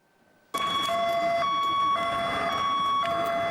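Emergency vehicle sirens start abruptly and blare loudly with steady, pulsing high tones, close by and continuing without pause, in the dawn twilight during a training callout of police and medics.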